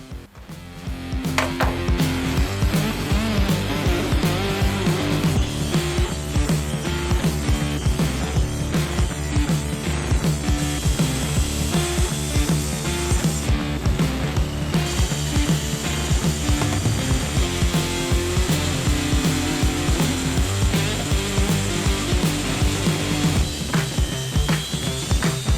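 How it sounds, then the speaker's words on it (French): A circular saw tilted to 45 degrees cuts a test piece of oak in a woodworking shop, a loud, continuous whining cut after a brief spin-up that runs steadily through the clip without talk. "on met la scie à 45 et puis"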